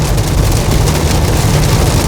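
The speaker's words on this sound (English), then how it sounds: "Yeah, this is heavy rain." Heavy rain drums on the roof of a Ferrari 12Cilindri, heard from inside the cabin as a loud, dense, steady roar across the whole clip, with no voices over it.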